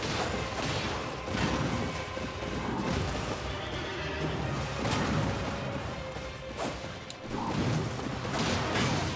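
Horse in the Elden Ring video game: a dense, noisy game soundscape with rough bursts that may include a whinny, loud and continuous throughout, with crashing impacts layered in and no clear speech.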